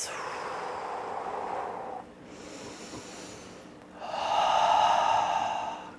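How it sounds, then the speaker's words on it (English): Big, deep breaths during a yoga hip extension practice. One long breath fills the first two seconds, a quieter stretch follows, then a second fuller breath swells in, all close and with no talk. "Big, deep breaths."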